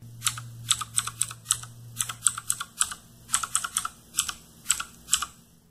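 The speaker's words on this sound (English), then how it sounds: "They deliver a crisp, audible click sound when you press the keys." Typing on an Aukey backlit mechanical keyboard with clicky blue switches gives crisp, sharp key clicks in quick uneven bursts, close and distinct over a faint hum.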